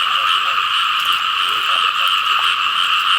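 Large frogs in a clear-water ditch croak in a dense, unbroken chorus, loud and close, with overlapping calls and no voices.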